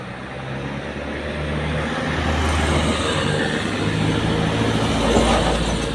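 A Hino box truck on a road, its engine giving a steady low drone with broad road and traffic noise that builds slightly and holds for the whole stretch, with no talk over it.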